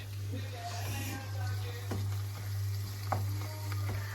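A bulgur filling with tomato paste and pepper flakes fries in a pan, giving a soft continuous sizzle with occasional clinks of stirring, heard alone under a low steady hum.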